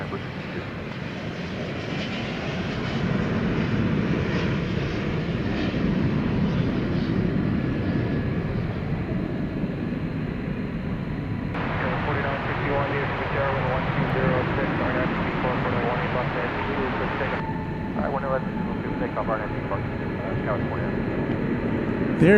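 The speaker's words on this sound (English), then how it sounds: "over here we've got a 777 coming in from Los Angeles" A Boeing 777 jet airliner arriving from Los Angeles at DFW Airport at night rumbles steadily, a broad engine roar holding for over twenty seconds at a moderate distance, with people talking over it.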